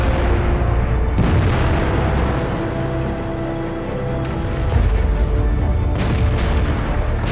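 Tank cannon fire in the World of Tanks video game: heavy booming shots over a dense, constant rumble of engine and battle noise, loud and continuous with no talking.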